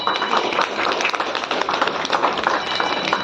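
Applause from an audience honouring Prasanna's family at a Mandala Puja temple gathering: steady, dense clapping filling the clip at moderate loudness, with scattered patters and faint background voices.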